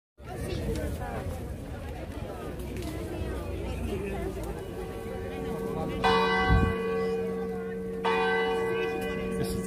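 Church bells ring out in Faro, Portugal, two resonant strikes with long ringing decay, rising over the murmur of people chatting in a busy street.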